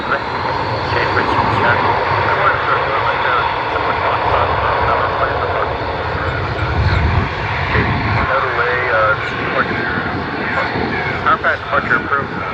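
Private jet roaring on takeoff at Orlando Executive Airport, a loud, sustained engine rumble that continues steadily throughout, with voices talking over it.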